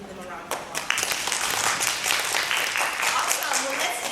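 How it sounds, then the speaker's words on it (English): An audience claps steadily for several seconds at a women's health and awareness panel, honoring the health professionals who just introduced themselves. The clapping is a sustained, moderately loud wash of many hands, with a voice speaking over it. "if we can give them a round of applause"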